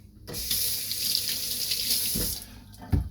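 Kitchen tap water runs steadily into a sink while a lemon is rinsed under it, a loud continuous splashing stream that starts abruptly and ends with a couple of clunks near the end.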